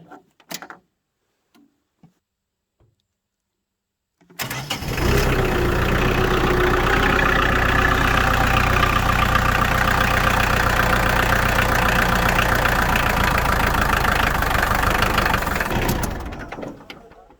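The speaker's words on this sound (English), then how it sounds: "Start the tractor." After a few quiet knocks, a Kioti DK45 tractor engine cranks and catches, then idles with a steady, loud rumble for over ten seconds before winding down.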